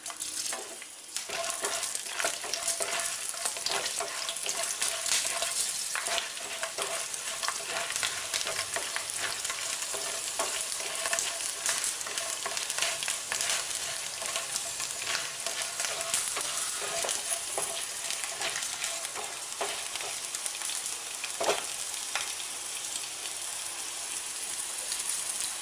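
Chana dal and garlic cloves frying in a pan, a loud, dense crackling sizzle, close and unbroken for the whole stretch, with occasional stirring scrapes and no voices.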